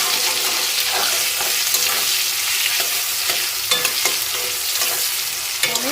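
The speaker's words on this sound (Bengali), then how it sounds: "ভাজাতে কলা ভাজা, করলা ভাজা এগুলোতে একটু হলুদ দিলে" Banana and bitter gourd slices frying in oil with turmeric give a steady, close, full sizzle, broken by regular scrapes of a spoon stirring through the pan; no one speaks.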